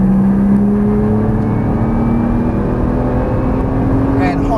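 Nissan GT-R engine at full throttle on a track, a steady loud drone that climbs gradually in pitch as the revs rise, with an instructor's voice over it.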